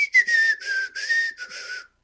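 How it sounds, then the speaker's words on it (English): A person whistles without moving their mouth, a clear, wavering tune in several short phrases with brief gaps. It is close and alone, with no talking, for about two seconds. "my hidden party trick is I can whistle without my mouth moving"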